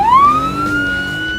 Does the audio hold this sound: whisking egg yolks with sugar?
no